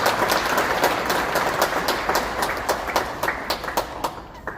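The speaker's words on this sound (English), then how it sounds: "Let's give her a round of applause." Crowd applause for a councilmember at a Kosovo Independence Day celebration in New York City, thick clapping that holds steady before thinning into scattered claps toward the end.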